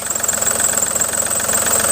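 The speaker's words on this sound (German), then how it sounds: "So läuft der Motor. Es gibt ein Geräusch." Car engine idling with a worn belt tensioner pulley, giving a steady close, loud mechanical hum with a continuous high whine and fine rhythmic ticking over it, no voices.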